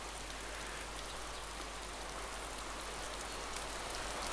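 Steady, even rain hiss falls in the DayZ game world, a dense continuous wash with no voices and no breaks.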